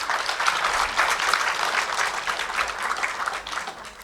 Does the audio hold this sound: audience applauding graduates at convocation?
yes